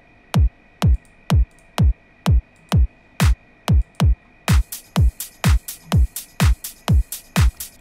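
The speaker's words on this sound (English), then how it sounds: "this is how the drum sounds like." A slap house drum pattern programmed in FL Studio thumps a steady four-on-the-floor kick, with claps and crisp hi-hats joining halfway through, loud and without voices.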